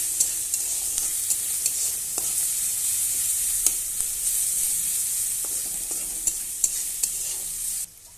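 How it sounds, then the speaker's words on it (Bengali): Onion frying with bay leaf and garam masala, stirred in a pan: a steady bright sizzle throughout, with scattered scrapes and taps of the spoon, close and fairly loud, ending abruptly. "এবার পেঁয়াজ দিয়ে দেবো আমি, দিয়ে ভালোভাবে নাড়বো"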